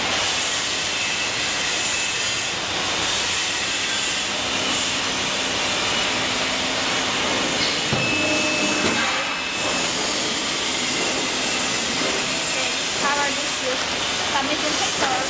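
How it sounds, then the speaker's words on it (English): An oil hydraulic double-station heat press, 60x80 cm, lifting its heating plate automatically with a steady, loud hiss of released pressure that runs the whole time, with a brief clunk partway through. "Once the time finishes, the heating plate will lift it up automatically"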